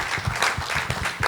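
A film-club audience applauds warmly after a screening, a dense rolling patter of many hands clapping at once, sustained and fairly close.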